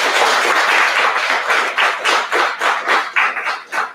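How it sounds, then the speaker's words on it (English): Mourners at a memorial tribute for Joseph Fisher clap, a loud burst of applause that breaks into separate uneven claps and tapers off toward the end. "Now let's give Joseph that round of applause"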